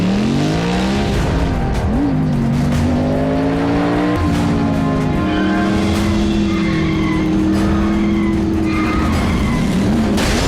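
Race cars in a Transformers Prime cartoon scream past at full throttle on a road, with tires squealing through skids and loud, steady engine whines rising and bending in pitch.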